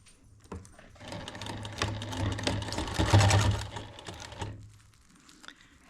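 A sewing machine stitches a folded potholder closed, running in a steady, fairly loud mechanical whir for about four seconds before stopping, with no talking over it.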